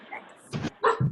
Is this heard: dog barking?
yes